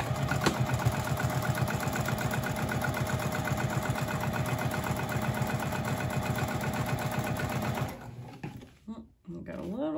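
A sewing machine stitching the strap anchors of a crossbody bag runs in a fast, even mechanical chatter for about eight seconds, then stops, leaving handling noises and a voice talking.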